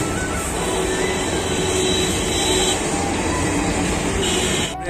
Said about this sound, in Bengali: এই যে মালদা আমাদের রেল স্টেশন, রেল যাচ্ছে মালদাতে।